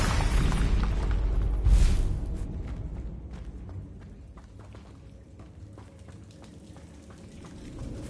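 A Bombarda spell in Hogwarts Legacy sets off one loud, sharp blast, followed by scattered cracks and thuds as the rumble fades.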